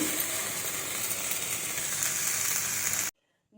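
Masala for a paneer gravy frying in a pan on a gas stove, giving a continuous dense sizzle with faint stirring that cuts off suddenly into near silence at the end.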